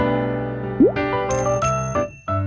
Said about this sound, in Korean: 그때 띵동 띵동 초인종 소리가 났어요.